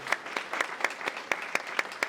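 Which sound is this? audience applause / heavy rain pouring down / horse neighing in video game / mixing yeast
audience applause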